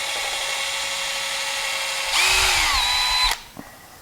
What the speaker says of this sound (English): now I'm going to drill some pilot holes for my screws.